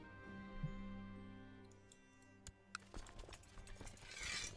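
Horse hooves clip-clopping in the Crusader Kings 2 Holy Fury video game, a faint uneven run of light taps over a soft music bed, with no talking.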